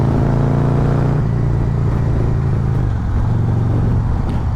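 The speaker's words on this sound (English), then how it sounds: "This S&S exhaust is way better." A Harley-Davidson motorcycle fitted with an S&S exhaust rumbles loud and close, holding a deep throaty note before the revs drop and settle into a lower steady growl.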